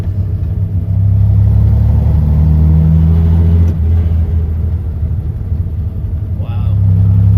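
A Chevrolet C10 pickup truck rolling along a road with total brake failure, its engine giving a loud, close, steady low rumble that dips briefly midway, with people talking over it.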